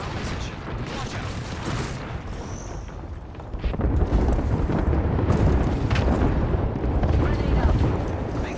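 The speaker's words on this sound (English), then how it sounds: "There is an airstrike on our position." Airstrike explosions in a video game shooter, a dense, loud rumble of blasts and debris that swells midway and keeps roaring, with voices talking over the chaos.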